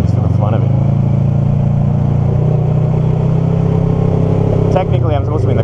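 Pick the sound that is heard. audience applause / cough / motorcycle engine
motorcycle engine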